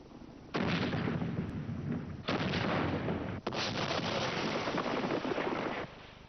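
Heavy artillery bombardment from the Siege of Mafeking, with loud, sustained roaring barrages in long blasts broken by short gaps. The sound is dense and close, with no voices.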